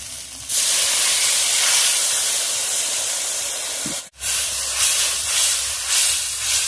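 Water poured into a hot frying pan of spiced shrimp and kochu loti (taro stolons) with chili powder, giving a loud, steady hiss and sizzle that holds for several seconds, breaks off briefly, then surges back.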